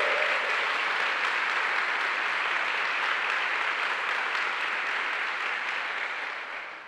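A Catholic church congregation breaks into sustained, heavy applause, a thick wash of clapping from a large crowd that holds steady for nearly seven seconds and eases slightly at the end.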